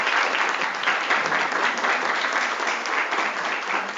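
Workshop attendees applauding a doctor after a talk on regenerative medicine, a steady, fairly loud wash of clapping from a sizable group, sustained without talk over it.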